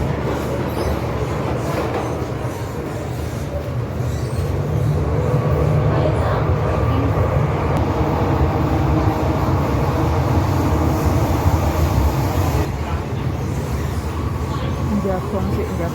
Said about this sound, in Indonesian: kita naik kereta api dulu